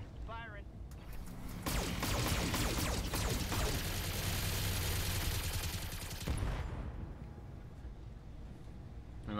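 Mech weapons fire in the BattleTech video game, a dense, loud barrage of blasts and rumbling impacts lasting several seconds before cutting off, with a brief ringing tone just before it.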